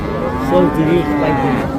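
A young Friesian cross calf at a busy village cattle market lets out one loud, drawn-out moo close by, heard on its own.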